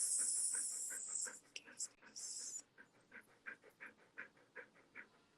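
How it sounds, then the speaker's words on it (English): A dog pants in quick, rhythmic breaths close to the microphone, after a steady high hiss fades out; the panting continues in short bursts to the end. "Is that a doggy?"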